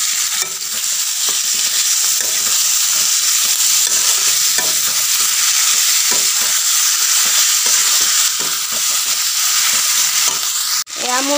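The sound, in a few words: stirring and frying marinated mutton in a pan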